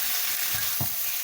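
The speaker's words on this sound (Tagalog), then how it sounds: "So we will just mix it like that" Fried onions, garlic and paprika sizzle loudly in a pan while being mixed, a constant hiss with a couple of soft scraping stirs, close up and with no voices.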